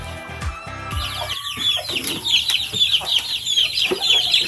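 Native chickens raised on a farm cluck and squawk close by, a busy overlapping flock chatter that runs steadily throughout after a brief low thump at the start.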